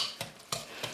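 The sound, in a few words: mixing eggs into sweet almond filling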